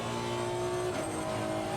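A race car in Assetto Corsa Competizione at Silverstone howls along a straight, its engine drone steady and loud with a shifting pitch as it closes on a lapped car, no voices over it.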